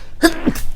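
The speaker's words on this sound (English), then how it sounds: "No, just sneeze." A single sharp sneeze bursts out close by in a quiet room, a quick inhaled catch followed by an explosive release, and then it fades into faint room noise.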